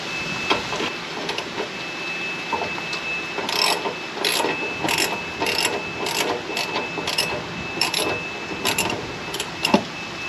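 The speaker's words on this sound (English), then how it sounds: "we're going to get our socket set, and we are going to take that old anode rod out" A socket wrench loosens an old anode rod from an RV water heater: close ratcheting clicks come in short bursts, separated by brief pauses, over a faint steady hum.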